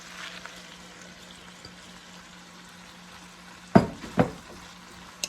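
Spinach wilts in a pan for garlic butter gnocchi with a soft, faint sizzle, broken by two sharp clatters close together near the end.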